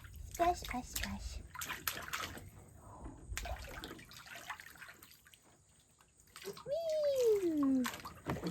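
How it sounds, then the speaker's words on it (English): A 9-month-old baby splashes water in a bathtub with light, scattered splashes and drips. An adult talks throughout, and the baby lets out a high squeal near the end. "Splash, splash, splash."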